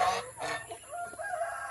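A rooster crows once nearby on a backyard farm, a loud drawn-out call with a rising then falling tail.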